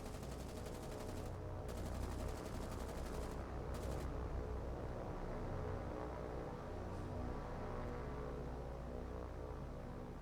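Continuous ship gunfire in the War on the Sea naval combat game while hunting Atlantic convoys, a dense, unbroken rattling fusillade that never lets up, with no talk over it.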